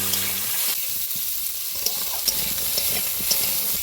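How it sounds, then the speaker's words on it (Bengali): Half-boiled young jackfruit and potato fry in hot oil in a wok, a loud close sizzle with stirring scrapes and small clinks throughout. "এবার হাফ সেদ্ধ করে রাখা হেঁচড় আলুটা ভেজে নিব।"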